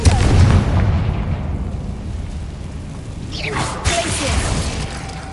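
Spell explosions from Bombarda and Confringo in the Hogwarts Legacy video game: a heavy booming blast at the start fades into rumbling debris. A second sharper burst follows.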